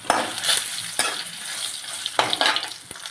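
Dry red chillies, coriander seeds, white lentils and fenugreek frying together in a pan for tomato chutney, a close, steady crackling sizzle broken by a few sharp stirring scrapes.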